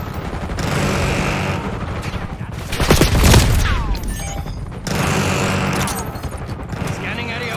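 Rapid gunfire bursts in the Black Ops 6 multiplayer game, loud and dense, with a heavier explosive peak midway, sounding continuously beneath in-game radio callouts.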